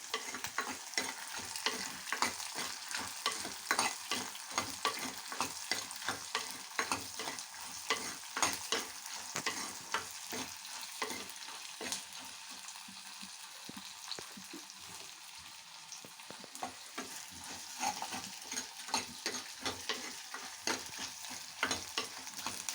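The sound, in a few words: sautéing in a pan until golden for vathal kuzhambu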